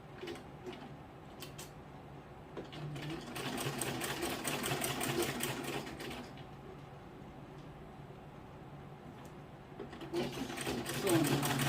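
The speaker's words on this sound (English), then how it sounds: "Sew on the line." A sewing machine stitches skirt fabric with lining, its motor whirring in bursts that run for several seconds, pause, then start again, close and clear with some faint background sound.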